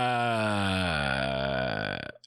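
A royalty-free fart sound effect plays back as one long, loud, buzzy blast with a slowly falling pitch, lasting about two seconds before it cuts off abruptly, alone and without talk.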